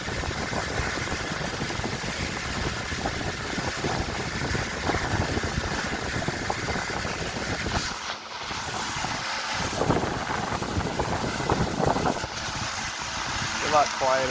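An antique restored Century 16-inch electric fan runs on its second speed, a steady airy whoosh with motor hum that holds constant throughout, close and fairly loud, with a brief dip partway through.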